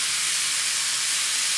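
Meat hits a hot griddle for a Philly cheese steak, giving a loud, steady, bright hiss of sizzling that fills the whole moment without pause.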